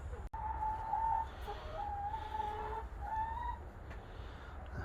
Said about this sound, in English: That's what you call contented chickens.